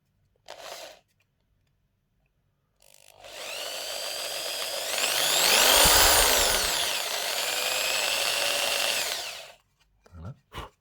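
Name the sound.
drill with 2.5 mm bit enlarging holes in PS5 controller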